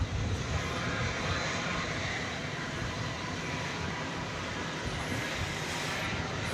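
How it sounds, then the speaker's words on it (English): A United Airbus A320 arriving from Denver on landing at Dallas Fort Worth airport after dark, a steady broadband jet roar passing fairly close overhead, sustained without voices. "It's a United Airbus A320 just coming in from Denver."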